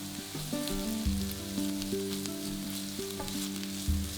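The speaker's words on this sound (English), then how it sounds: "We're going to add a diced onion to the pan and cook it for about 4 to 5 minutes until softened." Diced onion fries in butter and oil in a pan, giving a quiet, continuous sizzle with faint tonal sounds over it.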